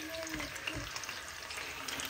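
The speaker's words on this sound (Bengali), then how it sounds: "পাবদা মাছ আমি ফার্স্টে একটু ভেজে নিচ্ছি" Pabda fish frying in a pan at home, giving a steady close sizzle with faint spatters throughout and no voices.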